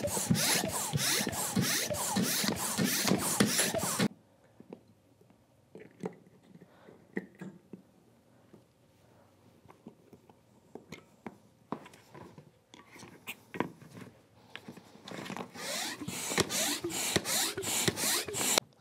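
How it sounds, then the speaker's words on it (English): A hand pump inflates a Hobie inflatable kayak, with rapid rhythmic whooshing strokes at the start and again at the end, separated by quieter rubbing and handling noises. "Put the pump on there and pump away"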